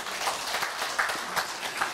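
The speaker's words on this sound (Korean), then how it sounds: "박수로 환영합니다." Congregation applause welcoming a newcomer at a church service, a steady patter of many hands clapping at moderate volume for about two seconds with no clear break.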